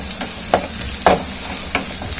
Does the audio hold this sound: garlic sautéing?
yes